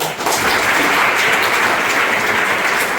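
An audience at a free IAS, PCS and IPS coaching centre event in Mirzapur claps steadily and densely, a loud, even wash of applause lasting the whole moment.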